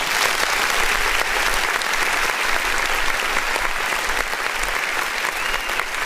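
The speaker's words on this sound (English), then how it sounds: "this record right here, definitely a hit record that deserves another clap." Steady, dense applause from a crowd fills the whole stretch, loud and even, a sustained wash of clapping for a hit record on a music review show.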